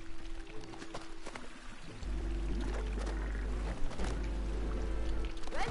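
Water flowing in the video game It Takes Two, a steady pouring rush that starts partway in and continues loudly with faint splashes and game effects, no talking.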